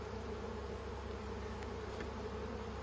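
Honeybees buzz steadily around open hives in a bee yard, a dense continuous hum filling the air with no speech.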